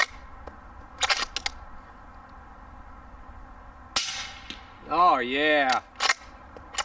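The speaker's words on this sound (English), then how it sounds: "last 5 is the Lehigh Defense 194 grain maximum expansion subsonics" Suppressed rifle shots fired with Lehigh Defense 194 grain maximum expansion subsonic rounds at a suppressor test: sharp close reports at regular intervals with quiet gaps, and one brief spoken remark.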